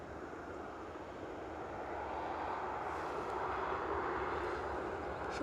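Jet engines of a NATO Airbus A330 MRTT tanker at Newcastle International Airport make a distant, steady broadband roar that swells slightly as the aircraft draws nearer.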